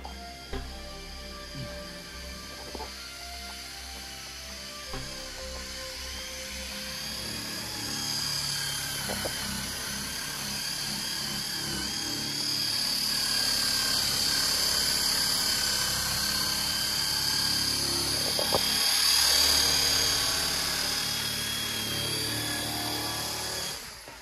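A steady mechanical whir from a rotary polisher buffing Porsche 911 paint runs continuously, swelling louder in the middle with a high whine on top.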